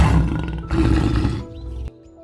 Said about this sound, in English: This is lion.